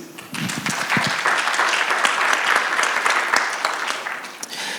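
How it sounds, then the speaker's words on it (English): Steady applause from a conference audience for panelists at a carbon market dialogue session, dense close clapping that swells quickly and holds throughout. "Round of applause, please"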